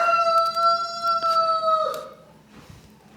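A rooster crows loudly and close by in one long, drawn-out call that breaks off, followed by quieter outdoor background.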